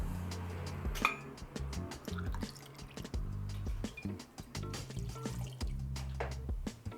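Cognac glugs and trickles as it is poured close up into a jigger for a cocktail, a soft liquid stream with light drips and a faint clink of glass.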